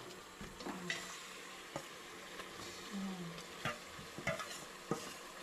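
About a kilogram of spiced, marinated chicken is stirred over high heat in a pressure cooker. A soft sizzle runs underneath as a utensil scrapes and taps against the metal pot in irregular strokes, and the sound stays faint and close.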